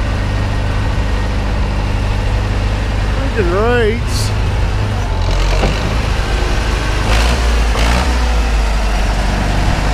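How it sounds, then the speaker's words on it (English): A new tractor engine idles and revs up close, a steady low rumble with a brief rise in pitch, under loud talking and a whistle-like sound. "Oh, your new tractor."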